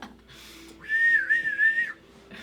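A single person whistles one wavering, sliding note that lasts about a second. It is fairly close and clear against a quiet room background.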